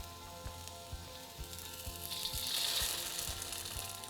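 Eggs land in a pan of hot oil with golden garlic and set up a soft, steady sizzle that swells slightly toward the end, accompanied by faint, regular ticking taps.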